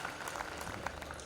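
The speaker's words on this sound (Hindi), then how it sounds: "एक बार तालियां बजा दो" Faint clapping from the audience at a Hindi kavi sammelan poetry recital, a brief, soft patter of hands that sounds distant and thin.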